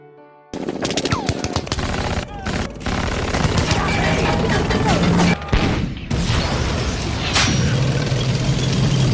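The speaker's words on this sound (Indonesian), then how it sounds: "Benar saja di balik atap gedung pasukan Jerman menembakkan senapan mesinnya." A German machine gun on a building rooftop fires in a World War II battle scene, sustained loud bursts of rapid gunfire with short pauses and crashing impacts, alongside narration.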